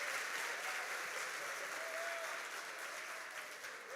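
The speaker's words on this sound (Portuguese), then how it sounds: "Você pode aplaudir o Senhor bem forte?" A church congregation applauds loudly and steadily during a Thursday evening service, a dense, continuous clapping that holds for the whole stretch and eases off slightly toward the end.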